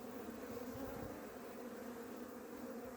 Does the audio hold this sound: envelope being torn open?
no